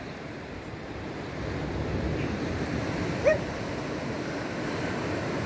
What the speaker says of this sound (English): Just behind the breaking waves.